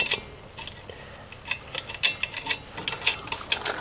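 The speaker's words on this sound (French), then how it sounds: "Alors vissons." Quiet metallic ratcheting clicks in short irregular bursts, close by, as a screw is tightened on a Mazda MX-5.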